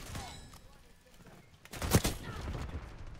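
A burst of automatic weapon fire in the video game Black Ops 6, with one sharp, loud shot standing out amid softer rapid pops, while a player's voice is heard over the game sound.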